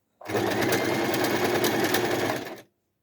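A sewing machine runs a small-length stretch stitch in one steady, rapid, close-up whirring burst of about two and a half seconds that starts and stops sharply, with no talking.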